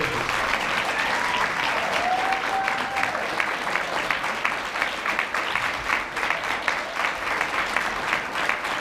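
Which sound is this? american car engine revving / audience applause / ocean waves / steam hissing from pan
audience applause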